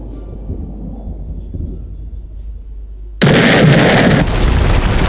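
Low rumbling builds, then a sudden loud game explosion erupts, followed by a sustained roaring blast that lingers to the end.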